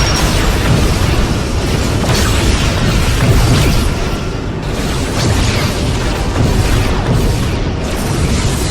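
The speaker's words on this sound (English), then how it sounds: "Target destroyed" An enemy vessel explodes during space combat in the video game Star Trek Legacy, a loud, dense rumbling blast that sustains for the whole stretch with no voices.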